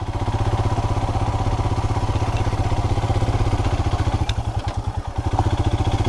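A Royal Enfield Himalayan motorcycle engine pulling steadily in second gear while riding, a loud, close, continuous low thumping drone with wind noise and a little variation near the end.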